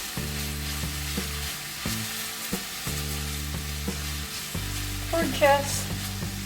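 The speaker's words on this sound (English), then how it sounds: "let's stir this constantly till the onions get soft." Onions are stir-fried in a pan for a quick tofu and kangkong stir fry, with a faint, steady sizzle under background music.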